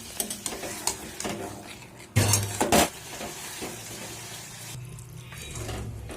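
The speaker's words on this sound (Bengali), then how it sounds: "তো এখানে আমি পরিমাণ মতো জল দিয়ে দিলাম।" Water pours into a pan of spinach and gram flour dumpling curry, making a brief splashing burst mid-clip amid the scrapes and clinks of stirring against the pan.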